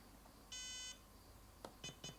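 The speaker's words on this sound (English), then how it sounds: "you've got it beeping" A Turnigy 9X radio transmitter, fitted with a 1W OpenLRS module, beeps faintly for about half a second during binding, then a few short, sharp blips follow in quick succession, with no voices.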